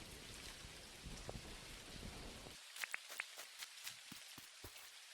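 Rain falls in the video game Dinkum as a steady broadband hiss, followed by a quieter stretch of scattered droplet taps and soft ticks.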